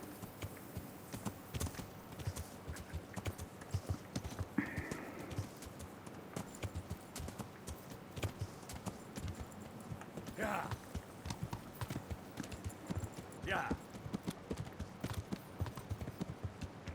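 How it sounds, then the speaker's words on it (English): A horse's hooves clip-clop at a steady walking pace in the medieval video game Kingdom Come: Deliverance, close and moderately loud, with a brief whinny-like call and faint game ambience around it. "Este caballo se ve que es más normal que había en toda la cuadra"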